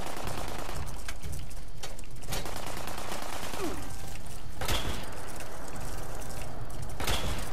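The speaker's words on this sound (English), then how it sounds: "Ooh, the recoil on that shot was pretty hefty." Rifle fire in Fallout 76 rings out as several loud, sharp shots over continuous game noise and ambience, close up, with no talking.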